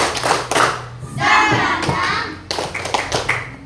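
Children clap a rhythmic 'tepuk semangat' ice-breaker pattern in a school classroom, close and fairly loud. The bursts of patterned claps are broken by a short stretch of chanting voices.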